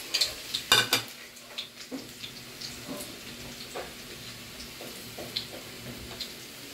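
Garlic dropped into hot oil in a pan, a soft, fairly quiet sizzle broken by a few sharp clinks and taps from a utensil against the pan, especially near the start, with no talking.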